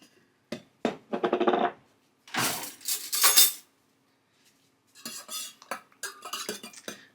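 A spoon clinks and scrapes around the inside of a cup, stirring tea sweetened with honey, in a few close bursts of rapid metallic tinkling separated by brief quiet pauses.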